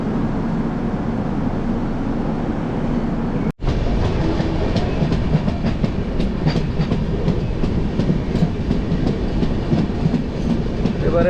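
A Kamrup Express passenger train runs on rails near Kishanganj heading into Aluabari, its steady rumble and rhythmic clickety-clack continuous and close, broken by a brief dropout early on, with no talk.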